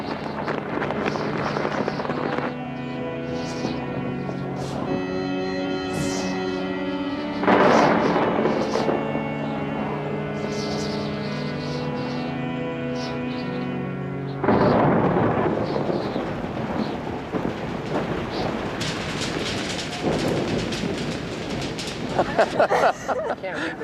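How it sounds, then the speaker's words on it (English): Rain falls steadily on the Mongolian steppe while thunder rolls and rumbles several times, heavy low booms swelling and fading over the constant patter, with some faint voices in the background. "it's raining"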